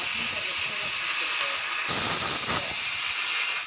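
A pressure cooker cooking vegetables for bisi bele bath lets out a loud, steady hiss of escaping steam that runs unbroken from start to finish, with faint low sounds underneath.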